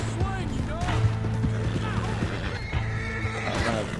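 A horse in a video game whinnies several times over the clatter of trotting hooves, with a steady hum and other game sounds underneath, fairly loud and close.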